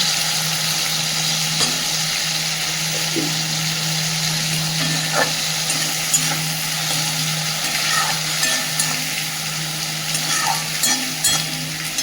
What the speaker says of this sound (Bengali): মশলাটা একটু ভেজে দেবো।